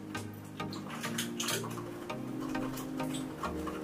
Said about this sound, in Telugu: ఇప్పుడు ఇందులో కొంచెం వాటర్ వేసుకుందామండి.